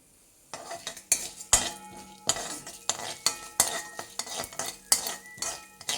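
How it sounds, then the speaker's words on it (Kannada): Dals, dried red chilies and curry leaves are stirred while dry-roasting in a pan, a spoon scraping and clinking against the metal in repeated close strokes over a faint sizzle. "ಈಗ ಹುರ್ಕೋತಾ ಇದ್ದೀನಿ."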